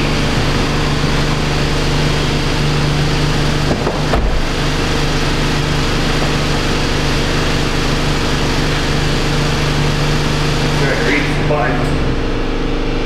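Cadillac ATS 2.5 replacement engine running at a steady idle, a loud continuous hum and drone with a brief bump partway through, voices talking over it.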